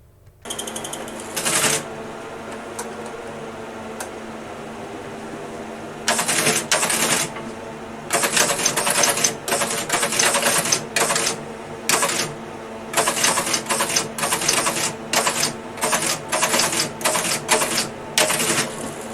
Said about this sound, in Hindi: ये देखें टाइपराइटर, और इस पर ये बंदा अभी टाइप करेगा।